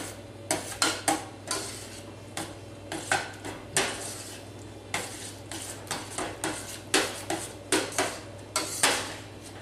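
Stirring ingredients in a pot while cooking gluten- and dairy-free fettuccine Alfredo: repeated clinks and scrapes of a utensil against the pot in an uneven rhythm, close and clear with no talk.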